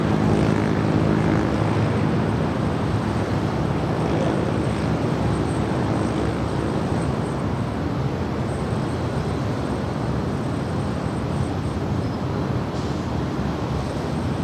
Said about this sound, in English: This is Japan Airlines 6720 Heavy coming in from Tokyo Narita. It's a 787-9 Dreamliner.